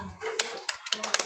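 Several quick, separate hand claps from a small group in an online class, brief and moderately close, with a voice briefly underneath.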